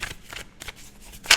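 Tarot cards slide and shuffle across a table in a few soft papery bursts, ending with a sharper, louder swish, close up with no talk.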